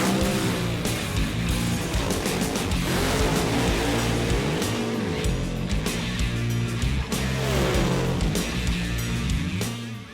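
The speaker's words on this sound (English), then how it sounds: "Funny car action gets started." Roaring, heavily loaded engine of a funny car at a nitro drag racing event, loud and continuous throughout with no speech.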